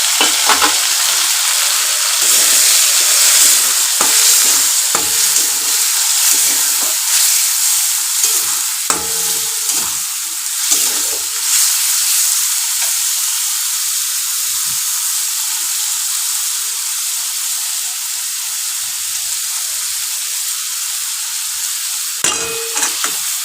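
Chicken curry fries in a pan just after tomato goes in, a loud, close, continuous sizzle and hiss with scraping stirs and occasional spoon knocks over it.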